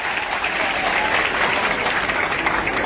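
Students applauding at a school's international week event, dense steady clapping from a sizeable crowd, loud and continuous throughout.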